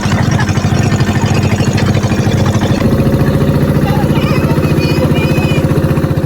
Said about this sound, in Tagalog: Ang ingay ng makina ay sumabay sa malamig na simoy ng hangin